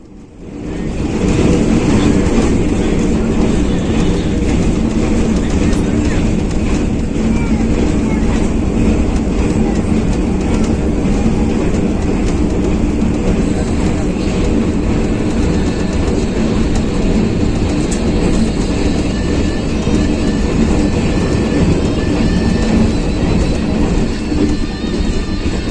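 Pakistan Railways train in an AC Deluxe Parlor car crossing the Chenab River on the Alexandra Bridge, a loud, steady broadband rumble and clatter of wheels on the bridge, continuous throughout with no talk.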